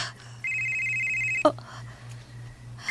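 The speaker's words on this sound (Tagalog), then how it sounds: "Si Bimbo ang nanawag" A telephone rings with an incoming call, one sustained electronic ring tone followed by a brief clatter, set against a low steady hum and quiet room background.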